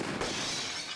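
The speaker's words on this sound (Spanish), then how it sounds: "cristales que se rompen con pistola" Glass shatters from a pistol shot in Tomb Raider Chronicles, a single sharp crash and spray of shards that rings out briefly and close, with a fresh impact right at the end.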